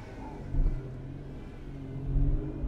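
A car engine idling unevenly while loaded by the power steering, a steady low rumble that surges and sags slightly, heard close with no talking.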